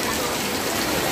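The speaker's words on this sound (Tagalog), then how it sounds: "Hindi kami makapag-umpisa ng maayos kasi malakas yung ulan." Heavy rain pours down steadily at a roadside outdoor film showing, a dense continuous hiss with no breaks.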